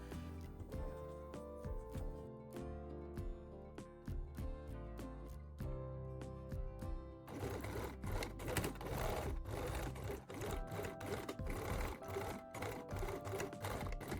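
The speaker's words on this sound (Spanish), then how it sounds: "Cosemos la etiqueta por el derecho del tejido secundario." A sewing machine stitching a label onto the right side of secondary fabric for a handbag, running in a steady rapid needle rhythm that speeds up and grows louder partway through, close and alone.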